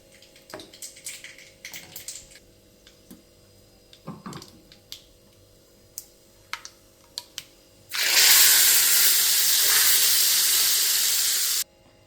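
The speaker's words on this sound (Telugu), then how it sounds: "బాగా కలిపేసుకొని తాలింపు పెట్టేద్దాం." A tadka for pachi pulusu hits hot oil and sizzles loudly, a sudden burst of steady hissing that holds for about four seconds before cutting off, preceded by scattered small clicks and taps.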